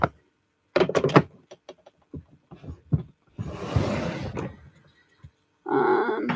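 A makeup drawer being handled and pushed shut indoors, with a series of close clunks, slides and knocks in irregular bursts, including a longer rumbling slide and a final rattling thud.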